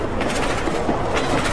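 A train arriving in the Roblox video game makes a loud, continuous rumble with rhythmic rolling clatter over a very short stretch, heard alone and close.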